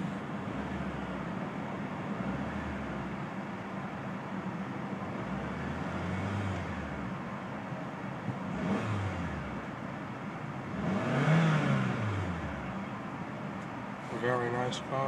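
A 1996 Toyota Camry LE engine running and revving in a few uneven surges, with a rising rev near the end and some background noise; no clear talking.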